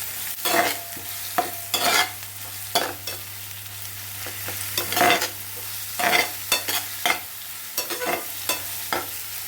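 Crushed chili and garlic paste stirred into cluster bean vegetable in a frying pan, with repeated scraping strokes over a steady sizzle, close and fairly loud with no voices.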